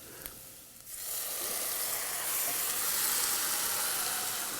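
Canned diced tomatoes poured into a hot pot, starting quiet with a couple of small clinks, then a sudden loud hissing sizzle that swells and holds steady, close by with no talk.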